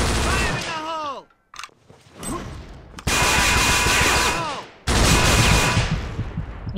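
A grenade blast in the Vietnam War shooter Vietcong during co-op play, heard as loud broadband bursts and gunfire-like clatter with brief gaps, while someone talks excitedly over parts of it.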